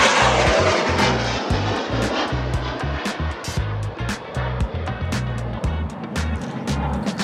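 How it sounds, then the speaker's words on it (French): A camera drone flying overhead at a fishing spot, a loud, steady buzzing whine with a low pulsing drone that fills the whole stretch without letting up. "Ouais, mais par contre, Lilian, ton drone, il est bruyant."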